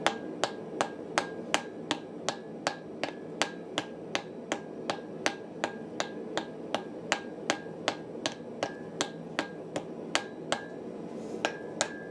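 A ball peen hammer strikes metal while a Viking hammer is forged. About two dozen sharp, ringing blows land in a steady, even rhythm, close and distinct, with a slight pause near the end.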